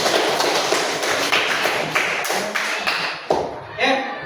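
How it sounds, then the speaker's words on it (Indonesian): Classroom applause for group 1 after their presentation, a steady patter of many hands clapping close by, tapering off near the end with a few louder single claps. "Beri tepuk tangan untuk kelompok 1"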